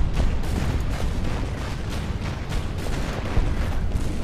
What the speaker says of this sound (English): Let's start firing on this bunker here.